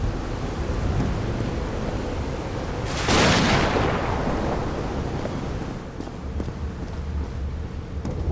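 A thunderstorm rolls over an island in the game Call of the Sea, with steady rain and wind under a sharp, loud thunderclap that rumbles away and fades over several seconds.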